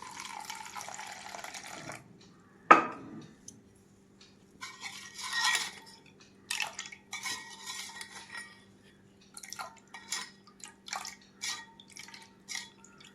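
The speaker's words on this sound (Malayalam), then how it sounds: "ഒരു മുക്കാൽ സ്പൂണ് മഞ്ഞൾപ്പൊടിയും ഒരു സ്പൂണ് ഉപ്പുമാണ് എടുത്തിരിക്കുന്നത് അത് ഒരു ഒരു ഗ്ലാസ് വെള്ളത്തിലൊന്ന് കലക്കി വയ്ക്കാം" A spoon clinks and stirs turmeric powder and salt into a glass of water, with scattered taps and light watery swishes in a quiet kitchen.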